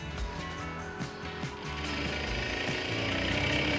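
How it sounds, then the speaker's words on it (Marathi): A sewing machine stitches the front body fitting of a one-piece umbrella dress, running in a quick mechanical chatter with short bursts early on, then a steadier continuous whir that grows slightly louder, close by. "आपण मार्जिन सोडली ती 2 इंच आतमध्ये घेऊन मी फिटिंग मारत आहे शिलाई"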